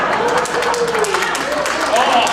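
Applause from the audience at a Hanukkah and Christmas concert, a dense steady wash of clapping with voices mixed in throughout.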